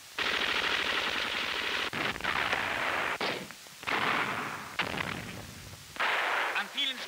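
Machine gun and light artillery fire from a wartime German newsreel: loud, rapid bursts of automatic fire rattle on with brief pauses and heavier thuds mixed in, close and harsh throughout.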